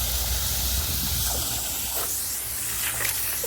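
Water from a garden hose sprayer sprays continuously, a loud, broad, steady hiss filling the whole stretch with no talking over it.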